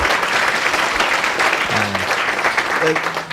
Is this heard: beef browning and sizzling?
no